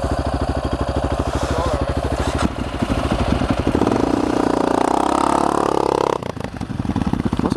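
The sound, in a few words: Husaberg motorcycle engine idling low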